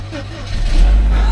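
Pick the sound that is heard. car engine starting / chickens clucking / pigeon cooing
car engine starting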